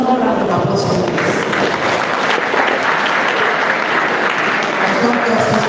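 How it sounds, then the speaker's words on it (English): Audience applause at an agricultural service capacity-building conference session, steady and dense clapping from a large room filling the whole stretch at close range, with no voices standing out. "Another round of applause for this."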